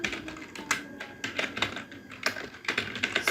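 Quick irregular clicks of keys being struck on a computer keyboard, close and clear, with uneven rhythm and no talk over them.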